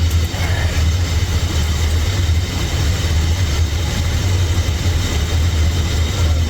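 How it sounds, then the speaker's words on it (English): Vehicle engine idling steadily after a transmission repair and a hose replacement, a loud, constant low rumble close by with no voices. "So let's start the engine"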